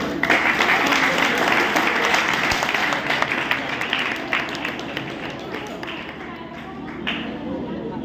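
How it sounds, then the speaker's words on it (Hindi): An audience claps steadily as people are welcomed onto a stage at an awards event, with a dense, fairly loud patter of applause that continues under a voice and fades slightly toward the end. "जोरदार तालियों से उनका स्वागत करें"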